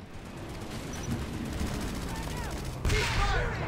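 Combat in PlanetSide 2 on PS4, with continuous rapid gunfire and explosive rocket impacts forming a dense battle roar, a louder burst near the end.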